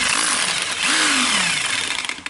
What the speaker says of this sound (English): I will check if it hammers.